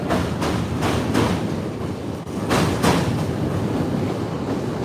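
A train rumbles past steadily, wheels clacking over rail joints in a regular rhythmic beat, loud and close with no talking.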